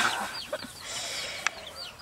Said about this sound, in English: The chickens are making a lot of noise today